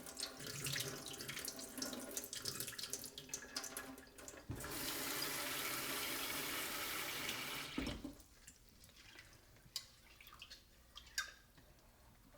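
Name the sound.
washing dal lentils under running tap water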